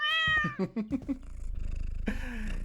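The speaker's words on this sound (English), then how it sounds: "Poor little kitty." A small cat meows close up in several short, rising calls, followed by a soft purring rumble and then another meow, with no talking over it.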